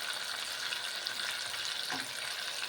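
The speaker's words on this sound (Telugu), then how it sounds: "చూడండి ఈ విధంగా వేగినాయి" Cashew pieces and stone flower fry in oil in a pan, giving a steady soft sizzle with light stirring, close and fairly quiet.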